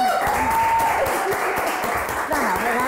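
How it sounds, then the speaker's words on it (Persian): Studio audience applause on a Persian television talk show, a steady dense clapping that fills the space throughout at a loud, even level. "ولی شما برنده تشویق کنید"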